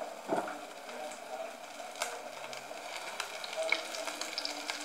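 Fish fries in a heated pan for an Asian vegetable soup with fish, a quiet, steady sizzle with occasional small pops and crackles.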